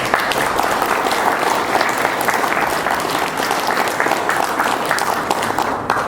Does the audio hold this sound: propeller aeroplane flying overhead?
no